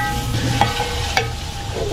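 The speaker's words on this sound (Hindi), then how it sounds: "अब हम चिकन को अच्छी तरह फ्राई करेंगे ऑयल के अंदर" Chicken frying in oil for biryani gives a steady close hiss, with two sharp clicks of a utensil striking the pot.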